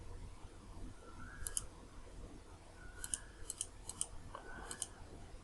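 A computer mouse clicks softly and faintly in small clusters, first a quick pair and then several scattered clicks, over a low quiet room hum.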